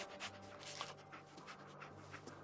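Companion dog in the Fallout 4 video game panting quickly and softly, a steady breathy rhythm over low background game ambience, with no speech.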